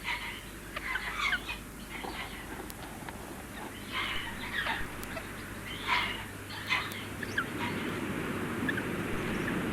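Takahe chicks call from a rearing unit in a steady series of soft, chirping peeps that stand out over a low, constant background hum.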